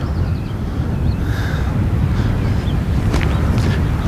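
Wind gusting across an open golf course at a junior summer tournament, a steady loud rumbling buffet on the microphone with no voices.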